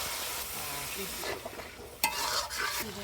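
Broth is poured onto duck meat frying with onion, garlic paste, ginger paste and ground spices, giving a close, steady sizzle with a few stirring scrapes.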